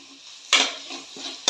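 Metal spoon scraping and clinking in a pan while onions fry with ginger garlic paste, a few sharp stirring strokes over a soft background sizzle.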